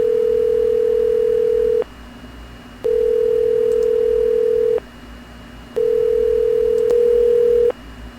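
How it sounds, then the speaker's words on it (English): A telephone line on a conference call gives a steady tone in three long, even bursts with short silent gaps between them, loud and clear with no talking. "Let me open the phone. You may hear it ring, you may not."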